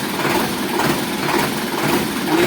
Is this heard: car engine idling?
yes